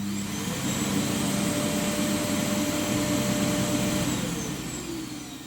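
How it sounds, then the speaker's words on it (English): A eufy E20 robot vacuum's auto empty station runs its emptying cycle, pulling debris from the internal dustbin with a loud, steady suction roar that holds for several seconds before easing off slightly at the end. "So I'm going to send it back now into the auto empty station, so the self-cleaning emptying function,"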